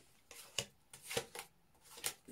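Tarot cards being shuffled by hand, heard as several quiet, papery riffles and slaps in an uneven rhythm, close and faint, with no talking.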